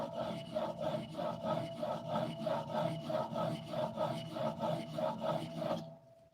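A blade tip being sharpened on a sharpening stone with light, even pressure, giving a steady run of about thirteen rhythmic rasping strokes, close and clear, that stop just before the end.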